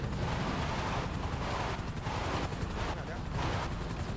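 Gunfire in GTA V, a dense, loud barrage of repeated shots in rapid rhythmic bursts continuing throughout, with voice activity mixed beneath the shooting.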